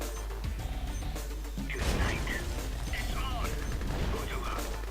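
Buildings being destroyed in a real-time strategy game on a snowy map: repeated crashes and explosive bangs amid mechanical clatter, with a voice talking over the action.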